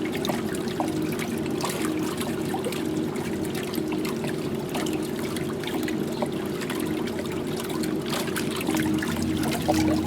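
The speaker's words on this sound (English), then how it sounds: "Just about all you can hear is the transmission and the water splashing." An inboard boat's transmission runs with a steady low mechanical hum beneath continuous water splashing and trickling around the hull, a constant close wash of sound without speech.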